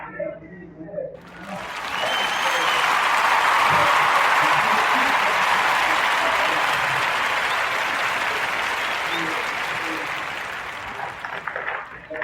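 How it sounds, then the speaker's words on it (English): Warm audience applause fills most of the span for a podcast guest, swelling after about a second, holding steady and loud, then thinning toward the end. "join me in a warm narrative podcast round of applause for this young lady, Marley Diaz."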